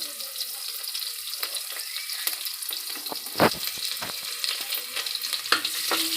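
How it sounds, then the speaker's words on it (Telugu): Onions and green chillies fry in a pan, a steady soft sizzle with a few louder stirring clatters, fairly close and quiet overall. "వేసుకొని కొంచెం గోల్డ్ కలర్ వచ్చేంత వరకు వేయించుకోవాలి"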